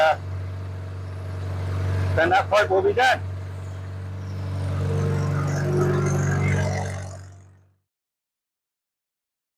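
An Austin-Healey Frogeye Sprite's engine idles steadily and fairly close, a low droning rumble throughout with a brief burst of someone talking early on, then the running engine cuts off abruptly near the end, leaving silence.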